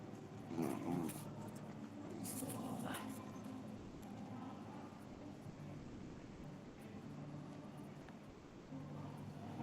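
Dogs barking and whimpering near a house, a few sharp yelps early on, then a fainter restless whine under a low rumbling background.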